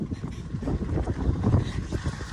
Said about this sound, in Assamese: বহুত বতাহ ফাগুনৰ বতাহ যাকে পূৰা একেবাৰে ধূলি কৰি পেলাইছে চাৰিওপিনে